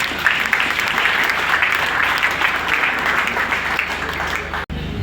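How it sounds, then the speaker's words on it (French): An audience at a political gathering applauds steadily, dense clapping filling the whole stretch with a brief cut near the end. "vous l'applaudissez"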